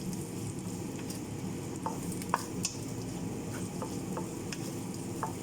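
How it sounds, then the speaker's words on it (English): Onions sizzle in hot oil in a wok, a steady close crackle broken by occasional clinks and scrapes of a utensil stirring against the pan, with no voices. "the first thing we are going to do is cook our onions"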